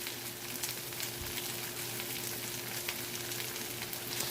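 A sub roll for a Philly cheesesteak sizzles and fries steadily on a hot griddle, a close, continuous crackling hiss with no talk over it.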